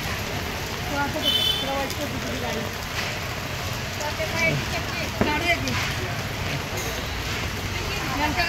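Rain pattering steadily on surfaces outdoors around a newly arrived auto rickshaw, a dense continuous patter with people talking over it throughout.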